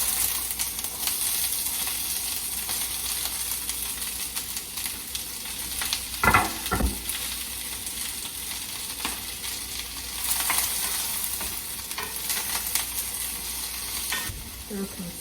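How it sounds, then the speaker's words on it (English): Onions fry steadily in melted ghee in a pan, a continuous close sizzle with a few louder stirring scrapes around the middle and near the end; no talking. "I'm going to put some ghee in the pan for the onions."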